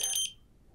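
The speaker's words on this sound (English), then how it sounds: "And if you're hearing this beep," A single short, sharp electronic beep from a Suprema Airfob Patch reader, high-pitched and clear, cutting off quickly into near silence.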